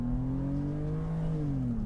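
A BMW 525i's 2.5-litre inline-six, rated at 160 kW, revs hard toward the red line. It gives a loud, steady, slightly rising engine drone that holds for about two seconds with no talking.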